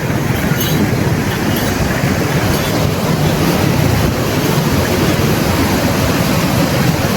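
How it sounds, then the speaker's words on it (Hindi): River water rushes through the Sulemanki headworks on the Sutlej River, a loud, continuous roar that stays even and unbroken from start to finish. "आप आवाज़ से अंदाज़ा कर सकते हैं कि ये इंडिया से पानी आ रहा है।"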